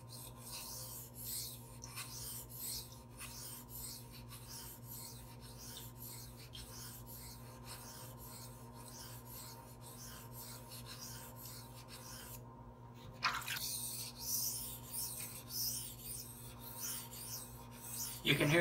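Steady back-and-forth rasping of a blade on a 1K silicon carbide sharpening stone, rhythmic strokes repeating close and continuously, with a brief pause and a slightly louder stretch near the end.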